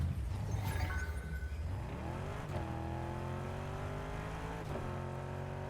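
A car in Fortnite pulls away, its engine note climbing in pitch and then holding a steady drone as it moves off at moderate distance, with no voices.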